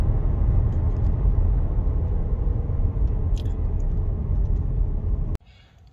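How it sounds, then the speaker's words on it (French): Cabin of a 2023 Hyundai Kona electric with a 39 kW battery accelerating hard, a loud steady low road and tyre rumble that cuts off abruptly near the end, leaving quiet. "Ah, ça accélère bien. Ça accélère même très bien."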